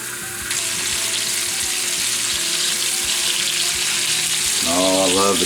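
Bacon frying in a pan on a stovetop gives a steady, loud sizzle throughout, with a brief stirring scrape near the end.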